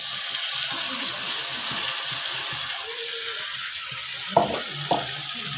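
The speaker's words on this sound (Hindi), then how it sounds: "अब ये यहाँ पर थोड़ा फ्राई हो जाएगा" Ground onion and spice paste with ginger and chili fries in a pan, giving a steady close hiss with a couple of brief clinks near the end, and no talk.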